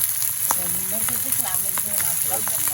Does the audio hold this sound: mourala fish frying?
yes